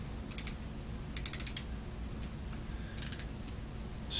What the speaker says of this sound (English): This one happens to be a ratcheting handle.